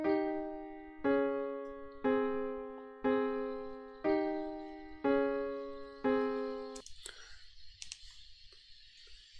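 A played excerpt of source music chords: six sustained chords, each struck and left to ring with a slow decay, spaced about a second apart, followed by faint clicking and shuffling noises with no talk.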